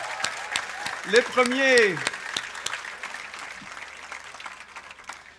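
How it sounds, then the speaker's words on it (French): At a university graduation ceremony, the audience applauds new architecture graduates with light, steady clapping beneath a voice speaking briefly in French over a sound system. "On va les applaudir très très fort."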